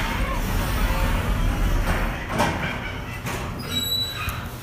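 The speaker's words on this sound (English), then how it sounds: "Doors closing." Sliding elevator doors in the Dundrum Town Centre shopping centre glide shut with a rumbling slide and a faint squeak, followed by a short high chime, all over constant background noise.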